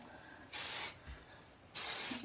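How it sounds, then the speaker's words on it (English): Two short, loud bursts of dry texture hair spray from an aerosol can, each lasting about a third of a second and separated by a brief pause, close and clear with no talking. "I finish with the texture spray just to give it like that chunky, piecey look"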